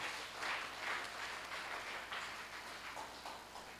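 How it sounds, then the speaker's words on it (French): A church congregation applauding: quiet, fairly distant clapping that swells and ebbs in waves over a few seconds. "On acclame pour Dieu."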